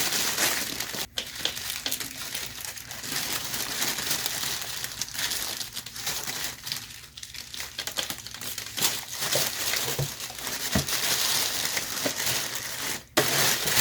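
Steady, dense crinkling of packing paper being scrunched and handled nearby, loud and unbroken with occasional sharper crackles.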